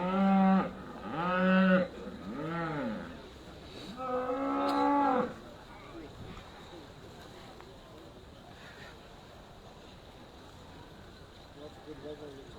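At the Great Yorkshire Show, Aberdeen Angus cattle give several loud, drawn-out moos close by in quick succession, then a quieter stretch of outdoor background noise.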